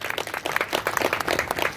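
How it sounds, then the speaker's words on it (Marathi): An audience at a women's harinaam saptah gathering at the Kalaram temple in Nashik applauding, a brisk, fairly faint burst of many hands clapping with a steady uneven patter throughout. "त्या भाऊसाठी टाळ्या वाजवा."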